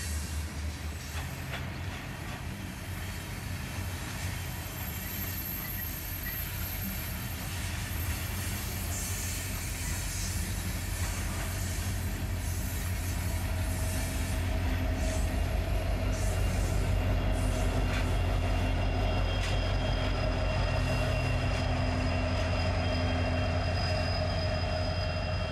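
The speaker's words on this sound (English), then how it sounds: "BNSF 9940 pusher power on the loaded coal train at Fruitland, Texas." A loaded BNSF coal train rumbles past at Fruitland, Texas, with a pusher locomotive on the rear, a continuous heavy roll of wagons and rhythmic wheel clatter that grows slightly louder and closer over time.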